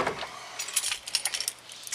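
A spare set of keys jangles and clinks in a few quick, bright bursts close by, set down on a storage shelf under the dash of a Jeep CJ7, with no talking.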